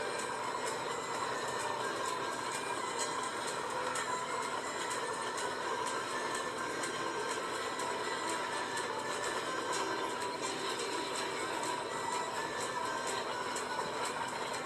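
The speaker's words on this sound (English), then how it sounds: "It's quite a long manifest train" A long manifest freight train rolls past close by, a steady heavy rumble of wagons with a continuous metallic clatter of wheels over rail joints that holds for the whole stretch, with no talk.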